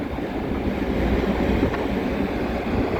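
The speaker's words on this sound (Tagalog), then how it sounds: "So, malakas yung hangin." A constant, heavy roar of strong wind rushing past, dense and unbroken for the whole stretch with no voices.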